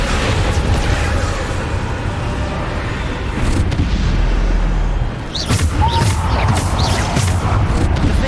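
Booming spell blasts from Bombarda cast in Hogwarts Legacy, a dense roaring rumble of explosions throughout with sharper bursts toward the end, loud and close over game noise.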